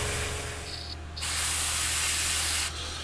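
Hissing airbrush blowing thin paint onto a scrap piece over a low compressor hum, the spray fluttering briefly and then rising into a strong steady hiss before easing off.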